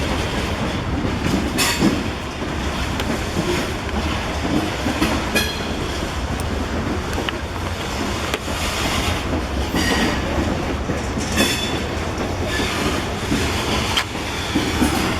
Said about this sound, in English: This grain train's coming out and there's another freight coming in.